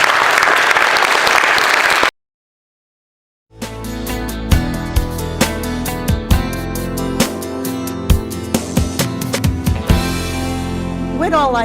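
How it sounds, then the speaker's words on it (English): Audience applause for speaker Phil Haney fills the opening two seconds, dense and loud. It then cuts to silence and gives way to tonal sounds with sharp knocks. "So please give Phil a great round of applause."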